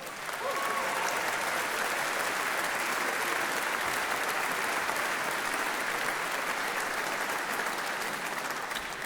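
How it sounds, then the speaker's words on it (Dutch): An audience at a brass band competition results ceremony gives warm applause for a young Norwegian composer, sustained even clapping from a large crowd throughout. "Geef er alvast een warm applaus"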